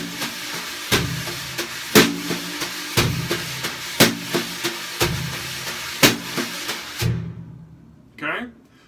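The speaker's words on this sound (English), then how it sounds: "then when you add the bass drum and hi-hat" A steady drum groove with a regular thumping bass drum and crisp hi-hat hits, played alone in a clear repeating rhythm before stopping.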